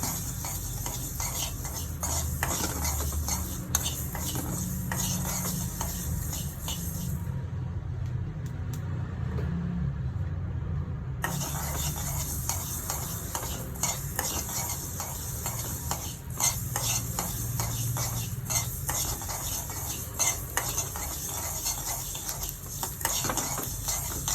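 Two tablespoons of mustard seeds crackle and sizzle in a hot pan alongside fenugreek while spices are roasted for mango pickle, a steady, close hiss with dense popping, briefly quieter midway.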